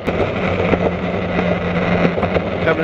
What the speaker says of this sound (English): You gotta ride the boosted board.